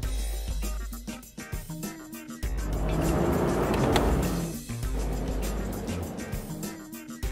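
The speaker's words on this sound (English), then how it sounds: "Panel truck." A panel truck drives by, its engine roar building to a loud peak and then fading, heard over a rhythmic music track.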